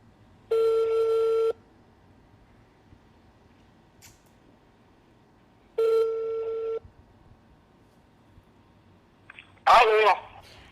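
Home landline telephone ringing, two one-second electronic rings spaced about five seconds apart, clear and fairly close in a quiet room, followed by a short clatter as the handset is picked up.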